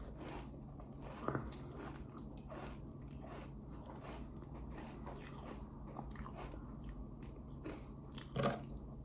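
Dry keto cereal is chewed close to the mic, with steady, soft crunching and two sharper bites standing out against a quiet background hum.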